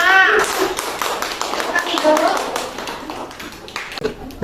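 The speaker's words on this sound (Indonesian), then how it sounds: "beri tepuk tangan untuk kelompok 5" Classroom of students clapping for a presenting group, scattered hand claps mixed with children's voices and chatter, fading toward the end.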